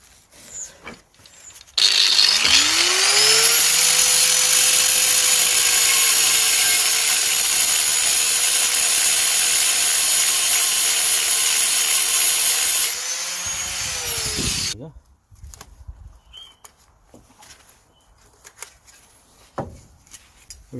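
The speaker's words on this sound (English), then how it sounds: "this side of the CV boot clip, we're gonna cut it with angle grinder" Angle grinder cutting a CV boot clip on a Ford Transit during a CV joint replacement: the motor spins up to a loud, steady high whine for about eleven seconds, drops briefly, then winds down, followed by faint clinks.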